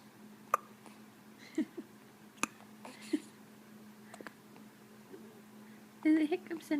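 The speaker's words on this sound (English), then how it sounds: "Oh no, they're going to be quiet hiccups." Quiet hiccups come from a person, several soft, short catches scattered irregularly across a faint, hushed background, with a little louder breathy noise near the end.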